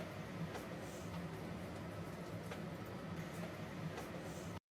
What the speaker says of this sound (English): This is just a sample of like some ambient noise on a train